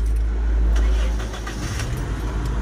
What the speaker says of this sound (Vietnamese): để em vô cái phần nổ máy cho anh em nha